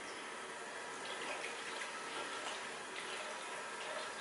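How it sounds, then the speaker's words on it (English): Tap water runs steadily while a face is washed, a close, continuous splashing hiss lasting several seconds with no voices. "Right, let me wash my face again."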